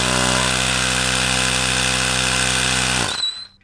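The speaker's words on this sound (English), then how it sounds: "Attach your tire pump and inflate to 45 psi." An electric tire pump hums loudly and steadily while inflating a Razor MX350 dirt bike tire, then winds down and stops near the end.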